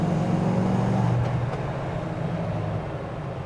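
A 1971 Chevrolet C10 Cheyenne pickup with a three-speed transmission drives along, its engine a low steady rumble that eases slightly as the drone settles, with no talking.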